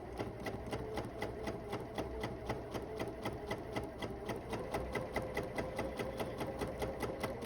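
A sewing machine chain-piecing a 1930s sampler quilt block, its needle hammering in a fast, even rhythm of close, steady stitches with no voices.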